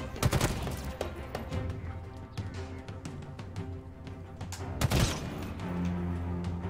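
Sniper fire and other gunfire in a Halo Infinite battle: repeated sharp cracks and bursts, loud and close, with dense shooting throughout and a heavy blast near the end.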